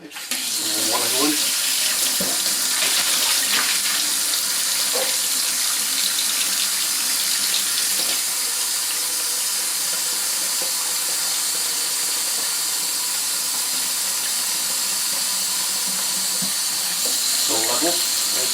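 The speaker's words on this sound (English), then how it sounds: "water going." Tap water runs steadily into a Rug Doctor Flexi Clean carpet cleaner tank, a continuous close hiss and splash that carries on throughout, with a few brief knocks and handling sounds near the start and end.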